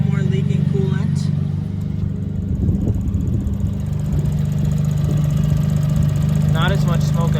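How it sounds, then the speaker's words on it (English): A Suzuki Cappuccino's small engine idles steadily with a low hum, and a voice talks over it briefly in the middle. "I'll let it idle for maybe 1 more minute."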